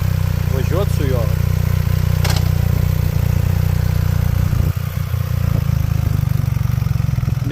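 A motorcycle on a test ride drones loudly and continuously with a steady engine hum and wind noise, while someone talks over it.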